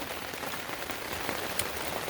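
Steady rain falls along the Appalachian Trail in Maine, a dense, even hiss of drops pattering on surfaces throughout, close and moderately loud, with no voices.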